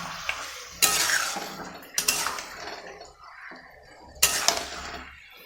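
Chicken pieces stirred and mixed in a metal pot, with irregular scraping and clinking bursts of the spoon against the pan, close and fairly loud, separated by quieter gaps.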